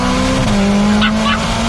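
McLaren 600LT Spider engine and exhaust pulling hard under acceleration, a loud sustained drone that rises in pitch, with a shift-like step partway through, close and continuous.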